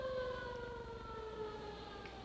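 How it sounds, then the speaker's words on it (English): A fire engine's and ambulance's wailing siren drones steadily at a distance on Howard Street in Baltimore in the 1960s, its tone slowly falling, with a low engine rumble beneath. "I just saw a fire engine and an ambulance going down Howard Street."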